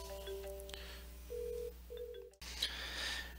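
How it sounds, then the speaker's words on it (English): A phone rings in a room with a truck engine workshop nearby, producing faint, repeated electronic tones over a steady low hum before a louder burst of background noise. "Phone's ringing again."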